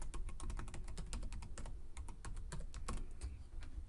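A password is typed on a computer keyboard as a quick, uneven run of crisp key clicks, close and fairly quiet, with no talking.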